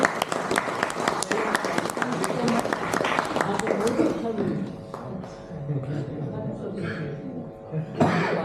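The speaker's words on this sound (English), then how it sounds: "I would like to request everybody to give a round of applause again to Mayanji" Applause for Mayanji breaks out at a startup talk, with crisp claps for about four seconds before thinning out; a cough and chatter from the room follow as voices take over.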